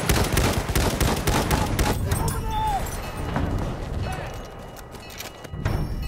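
Sustained bursts of machine gun fire in the World War I shooter Battlefield 1, loud and rapid with dense overlapping shots, easing off midway and then picking up again.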